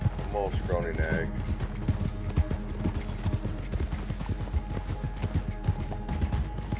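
A horse in Red Dead Redemption 2 Online, a scrawny nag, trots with a steady, rhythmic clip-clop of hooves. A short neigh comes near the start, and game sounds run underneath.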